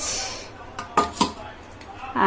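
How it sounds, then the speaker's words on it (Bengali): Plates and serving utensils clink a few times as rice and salad are served onto a plate, soft and close, over a low room hum. "এবার আমার থালা সাজাচ্ছি"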